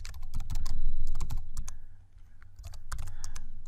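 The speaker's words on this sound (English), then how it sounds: "you just type that in" Fast, steady clicking of computer keys being typed, close and clear, in a run of rapid keystrokes with a brief pause midway before resuming.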